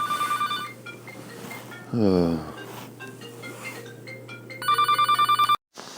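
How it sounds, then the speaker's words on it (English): A telephone rings in a courtroom during a trial with rapid, evenly pulsed electronic bursts at the start and again near the end, while someone speaks over it in between. "we were interrupted by the phone"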